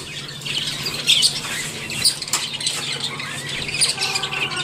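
Java sparrows and diamond doves call in an aviary colony, with sharp chirps and squawks scattered over a steady low murmur of cooing and chatter, fairly close and with no speech.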